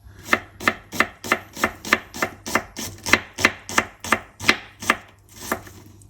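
A knife slices small onions on a board in a rapid, even run of about fourteen close, crisp chops, alone without talk.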